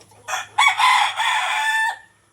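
A rooster crows loudly and close, one long drawn-out call with clucking chickens around it.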